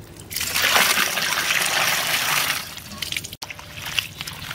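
Radish leaves being washed by hand in a basin of water, with steady splashing and trickling that runs continuously for a few seconds, then thins and briefly drops out before faint sloshing resumes.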